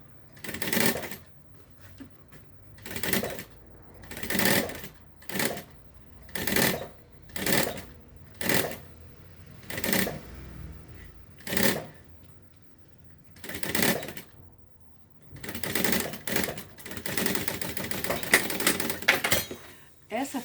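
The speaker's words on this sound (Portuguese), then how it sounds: "Retrocesso no início, vou ajeitando. Costuro em toda a extensão." Sewing machine running a finishing topstitch on a bag, short repeated stitching bursts with pauses between, then a longer continuous run near the end.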